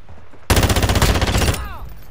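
Rapid automatic gunfire from a Famas-like weapon blueprint in a first-person shooter, a loud sustained burst of about a second of tightly spaced shots, then a short ringing tail.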